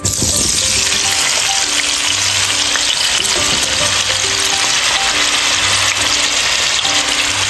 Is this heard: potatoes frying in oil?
yes